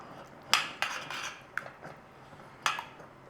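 A metal spoon stirs tuna flakes into a pot of creamed tuna and rice, making a few distinct clinks and scrapes against the metal sides, close and fairly quiet, with no talking.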